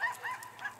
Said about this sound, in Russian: Там еще кто-то гавкает.